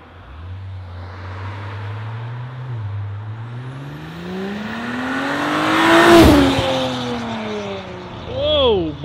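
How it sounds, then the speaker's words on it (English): Audi B9 S4 with a catless downpipe and exhaust valves open, heard from outside as it makes a quick pull: a deep exhaust drone climbs steadily in pitch to a loud peak, then drops off, with a brief voice near the end. "Adrian's doing a quick pull. He's gonna do it with the valves open, then with the valves closed"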